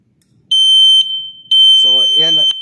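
A gas detector alarm sounds a piercing, steady high electronic tone in two long bursts, loud and close, with a voice speaking over the second burst.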